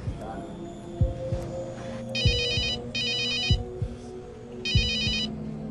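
A mobile phone ringtone in a Colombian TV drama plays in three short electronic bursts, bright and repeating, over a low throbbing hum and background music.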